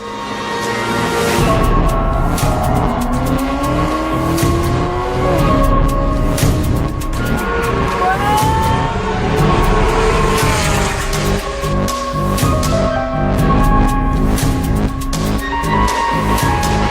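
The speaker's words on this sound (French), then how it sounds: "Vous imaginez pas le bruit que fait cette voiture." Single-seater race cars at the GP Explorer event: loud, continuous high-revving engine roar with rising and falling pitch sweeps as cars pass and shift, with occasional tire squeal, close and dominating throughout.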